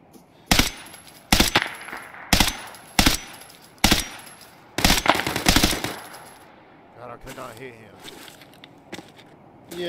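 Bursts of M4 rifle fire in a tactical shooting game, six or seven sharp, loud volleys in quick succession, followed by quieter shuffling and faint movement sounds.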